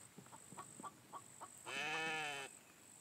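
A goat in the survival game The Infected gives one drawn-out wavering bleat, preceded by a run of soft clucking or footstep-like ticks against quiet ambience.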